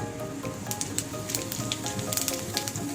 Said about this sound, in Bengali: এবার তেলের মধ্যে আমি দেবো কটা জিরে ফোড়ন